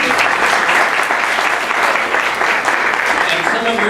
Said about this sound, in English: You're saying, why am I clapping?